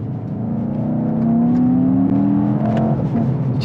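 A 2021 Mercedes E63S Estate's turbocharged engine accelerates, a loud close roar whose pitch rises steadily through the pull, heard from inside the car with no talk.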